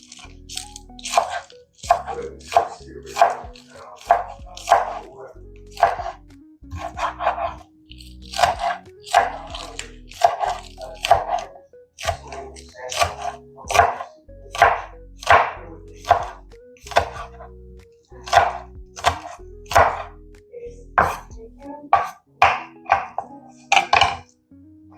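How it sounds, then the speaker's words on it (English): Green onion and jalapeno toppings are chopped on a cutting board for brisket chili, a long run of crisp knife strokes in uneven bursts, close and clear, with short pauses between groups of cuts. "Let's go ahead and get these toppings cut up, y'all."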